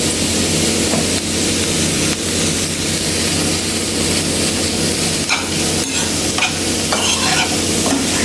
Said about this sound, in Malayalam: അതിങ്ങനെ ഇളക്കി നമുക്കതൊന്ന് വേവിച്ചെടുക്കാം.